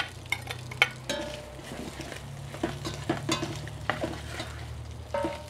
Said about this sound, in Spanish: Ya no le voy a poner manteca, ya aquí con la grasita del chorizo, con eso se va a dorar.